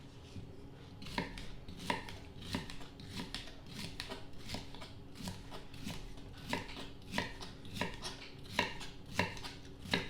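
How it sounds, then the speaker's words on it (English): A knife chops bell peppers steadily on a cutting board, quick rhythmic thuds repeating about twice a second, close by. "deal with these peppers first and chop them up"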